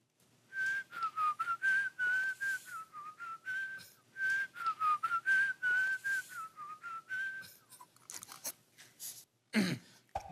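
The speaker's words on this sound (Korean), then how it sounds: "휘파람을 잘 불어요?" Someone whistles a wavering melody in clear, sustained phrases, close to the ear, with small mouth clicks and a sharp rustle near the end.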